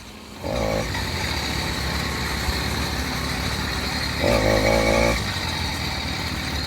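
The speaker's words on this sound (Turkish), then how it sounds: "Şöyle şimdi çalıştıracağım motoru." A small engine on a motorized bicycle starts up and settles into a steady, loud buzzing idle close by, then revs briefly before dropping back to idle.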